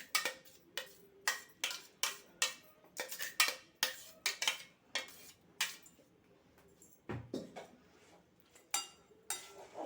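Yellow cucumber chutney being stirred in a bowl, with a run of sharp, irregular clinks and taps of the spoon against the bowl, loud and close, that slow down and space out toward the end.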